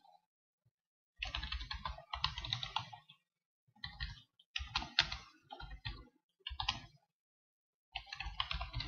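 Bursts of quick, close clicks from typing on a computer keyboard, coming in short runs separated by brief pauses of silence.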